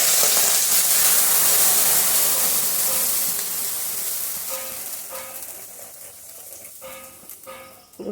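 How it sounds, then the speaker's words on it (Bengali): Hot milk from an induction stove is poured into a wok, producing a loud rushing hiss and sizzle that slowly fades, with a few light clinks near the end. "বন্ধুরা, আমি দুধ জালে বসিয়েছিলাম ইন্ডাকশান ওভেনে। এখন কড়াইয়ের মধ্যে দিয়ে দিচ্ছি।"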